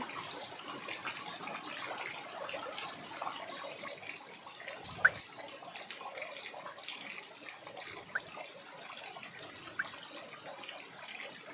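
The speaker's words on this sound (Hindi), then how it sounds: "थोड़ी सी बारिश हुई कि नहीं और घर में पानी की बूंदें टपकने लगे।" Rainwater leaks into an old mud house, making a steady hiss of falling water with a few sharper drip ticks, fairly close and alone.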